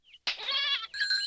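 Cartoon goats bleating, a short faint bleat followed by a loud, wavering, harmonic bleat and then another, close and clear with no talk.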